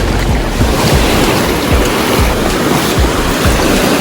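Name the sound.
ocean waves at the beach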